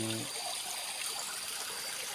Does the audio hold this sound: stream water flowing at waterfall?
yes